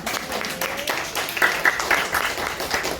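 A classroom group claps for a student, a patchy scattering of hand claps of moderate loudness lasting several seconds amid room noise.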